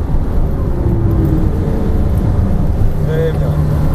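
A Porsche Cayman S accelerates hard on the Folembray race circuit, its engine a steady, loud drone from inside the car, with a voice speaking over it.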